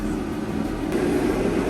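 A torpedo heater runs in a garage on a cold day, a continuous low roaring drone with a steady whooshing hum that holds level throughout, no speech.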